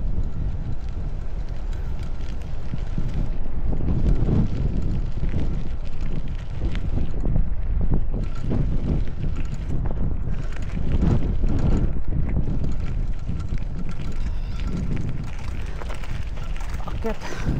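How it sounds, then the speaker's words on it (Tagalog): Strong outdoor wind buffets the microphone in a steady, loud roar for the whole stretch, with someone speaking briefly under the gusts. "Lakas ng hangin, sarap."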